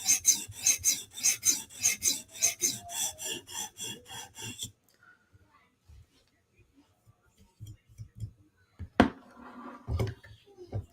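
A knife edge rasps across a sharpening stone in a quick, steady run of about a dozen close strokes, then everything goes near silent apart from a few soft knocks and scrapes.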